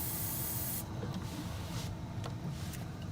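Brake parts cleaner blasts from an aerosol can at bald-faced hornets outdoors, a steady loud hissing spray for under a second that cuts off abruptly, followed by quieter background rustle and faint clicks.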